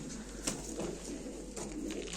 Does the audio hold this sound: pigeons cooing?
yes